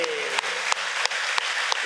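Audience clapping during a devotional singing programme in Hassan, with broadband applause and a few sharper claps in the middle of it, fairly loud and steady, while a voice carries over the top.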